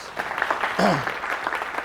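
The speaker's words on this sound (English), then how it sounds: "Give them a round of applause." Audience applause for supporters and staff at a graduation ceremony, a brief burst of clapping with voices and a short shout rising over it.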